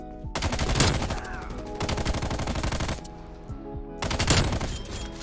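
A Stoner machine gun fires in Call of Duty Cold War in long, loud automatic bursts, close up, with a short pause between the second and final bursts.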